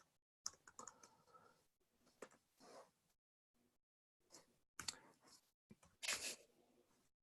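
Typing on a computer keyboard during a coding session, bursts of quiet, close key clicks separated by short pauses.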